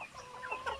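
Native chickens clucking softly in a brief burst, a few short close calls over quiet background.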